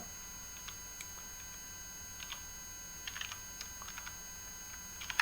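Soft, sparse clicks of typing on a computer keyboard, in short irregular bursts against a quiet hum.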